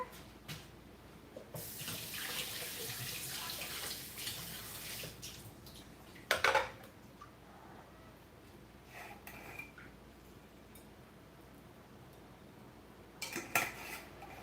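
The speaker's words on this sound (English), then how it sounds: "I'm gonna give Fred some treat water so he can leave me alone" A tap runs to fill a pet's water dish, with a few seconds of steady, fairly quiet rushing water followed by quiet background and a couple of sharp clinks of a dish or container, with no talking.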